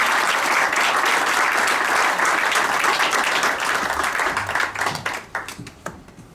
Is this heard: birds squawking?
no